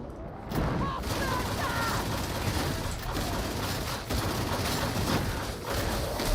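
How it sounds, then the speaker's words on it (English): Rapid gunfire and heavy blasts from the Warhammer 40,000: Darktide video game, a dense, loud barrage of overlapping shots and explosions with brief punchy bursts running across the whole stretch. "Do you see that bench stop that explosion?"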